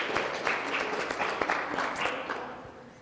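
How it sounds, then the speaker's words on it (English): Guests at an outdoor bar mitzvah ceremony clap together in a brief burst of scattered applause, moderately loud with wind-like noise underneath, tapering off after a few seconds. "let's give him a big round of applause"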